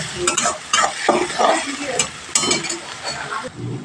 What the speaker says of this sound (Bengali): কাঁচা লঙ্কা রসুন কুচানোটা বা ছোটো করাটা দিয়ে দিলাম দিয়ে ভালোভাবে একটু ভেজে নিতে হবে